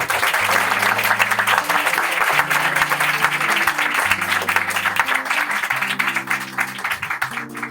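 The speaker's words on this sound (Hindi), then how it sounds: "जोरदार ताली लगाएंगे।" A church congregation applauds loudly under steady keyboard chords from a band, the clapping a continuous dense crackle through the whole stretch.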